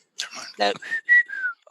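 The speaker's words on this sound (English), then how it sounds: "we decided to add that whistle into our theme music" A mysterious whistle in a recording, a short tuneful whistled phrase with sliding notes, close and clear, apparently repeated within theme music.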